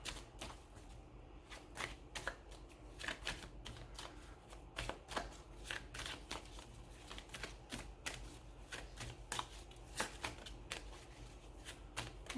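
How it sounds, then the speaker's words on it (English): Tarot cards are shuffled by hand in quick, uneven bursts of crisp riffling clicks and slaps, close up and heard alone for several seconds. "There's some cards shuffling around in there"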